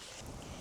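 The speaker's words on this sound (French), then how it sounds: "Il y a du vent, il y a du vent, il y a du vent" Outdoor wind gusts buffeting the microphone in a steady broadband rush with low rumbling swells, loud and close, lasting under a second with no talk.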